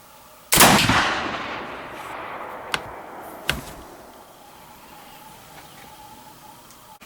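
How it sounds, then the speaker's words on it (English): A Tennessee mountain rifle firing a black powder load during load testing: one sharp, loud shot followed by a long decaying outdoor echo, then faint distant clicks and quiet background. "Well, she's shooting pretty accurate."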